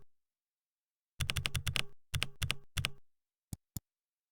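Computer keyboard keys clatter in quick bursts of typing, three short runs of rapid clicks followed by two separate single key presses, close and crisp with silence between.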